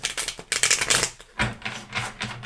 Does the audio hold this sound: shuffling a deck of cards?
yes